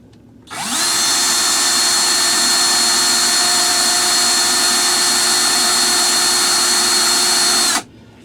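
A power drill spins up sharply, whines at a steady high pitch for about seven seconds close by, then cuts off abruptly, clearing debris from a Christmas light socket.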